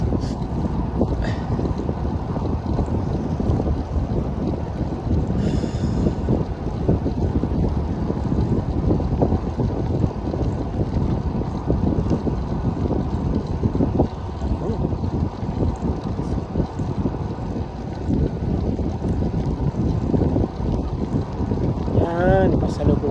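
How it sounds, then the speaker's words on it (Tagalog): Wind roars steadily past a cyclist riding a bike lane at 2 a.m. in Doha, Qatar, a constant rumbling buffet on the microphone for over twenty seconds with little change. "Yan, pasalubong ng hangin mga papips."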